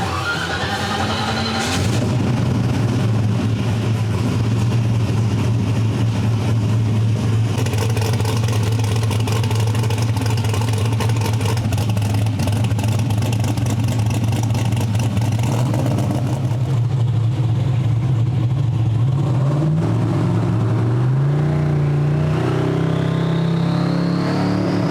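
A twin-turbo small-block Mustang engine fitted with nitrous cranks and catches, then holds a loud, steady rumbling idle before the revs climb near the end. The engine sounds close up, with no talk.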